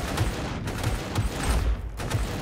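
Gunfire in the video game Operation Valor: a continuous crackling barrage of overlapping shots with deeper thumps every half second or so, fairly loud and with no pause.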